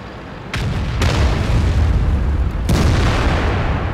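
Artillery fire in the World of Tanks video game sounds as several heavy booms, about three separate blasts, each rolling out over a dense, rumbling battlefield background.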